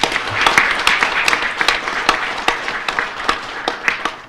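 An audience at a Korean political support ceremony for presidential candidate Lee Jae-myung applauds, a roomful of clapping that thins out into a few distinct, sharp claps toward the end.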